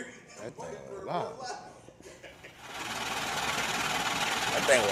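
A loud money-counting machine whirring in a continuous rapid mechanical rattle that starts partway through and runs steadily to the end, following someone talking and chuckling.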